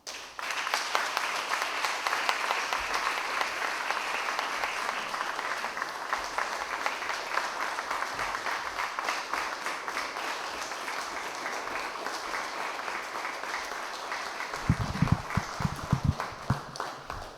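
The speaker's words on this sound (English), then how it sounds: "Let's give another round of applause to those amazing peace builders." A conference audience at a peace event applauds the peace builders in a long, steady roar of clapping that holds for about fifteen seconds, with a burst of louder, sharper claps near the end.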